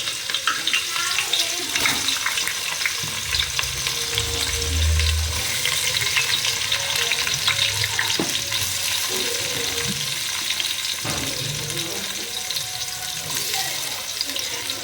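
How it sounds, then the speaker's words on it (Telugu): Thinly sliced onions fry in well-heated oil for chicken dum biryani, a loud, dense, continuous sizzle with scraping stirs and occasional clatter, close and steady throughout. "ఆయిల్ బాగా హీట్ అయిన తర్వాత సన్నగా కలుపుకున్న ఆనియన్ వేసుకుందాం."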